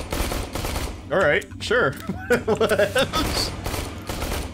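Rapid automatic pistol fire in the Aliens: Colonial Marines video game, quick bursts of shots mixed in with players talking.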